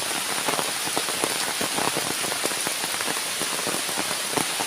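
Rain falls steadily in a rubber plantation, a loud, close, dense patter with many sharp individual drops spread throughout, and no voices.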